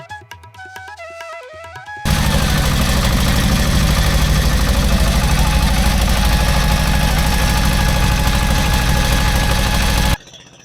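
A motor boat engine starts up loud and close as the boat pulls away from a river ghat, then runs steadily with a heavy, even mechanical drone before cutting off abruptly.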